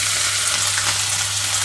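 Chopped onions and green chillies sizzle steadily in hot oil in a pan for a bottle gourd curry, a continuous loud close hiss with no breaks and no talking.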